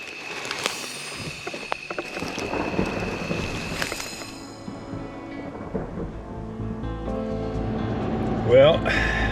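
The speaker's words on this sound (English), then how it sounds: "And it started to rain." Rain falls steadily outdoors during a deer hunt, a soft continuous patter with low rumbling and scattered knocks and rustles nearby, no talk heard.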